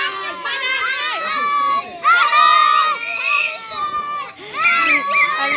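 Children shout and squeal together at a birthday party, their high overlapping voices loud and continuous with a few cry-like wails, and kids' chatter mixed in throughout.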